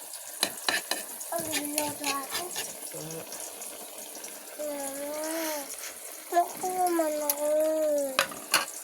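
Food sizzles steadily in a pan while a utensil scrapes and stirs, with people talking over the cooking.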